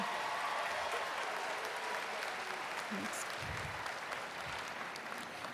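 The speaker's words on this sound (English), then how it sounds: "Can we give them one more round of applause?" Audience applause for a high school choir at a graduation ceremony, a broad steady wash of clapping that holds evenly throughout without any voices.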